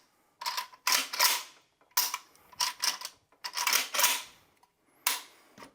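Close, crisp metallic clicks and clacks from an AK rifle being function checked, the action racked and the trigger snapped several times in irregular bursts with quiet gaps between.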